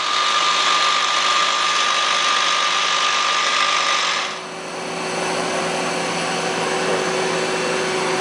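Live tool on a 2004 Citizen L32 Swiss-type CNC lathe spinning at 3,000 RPM, a loud steady high whine with broadband hiss that dips briefly midway and then carries on.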